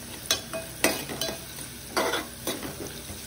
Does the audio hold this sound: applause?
no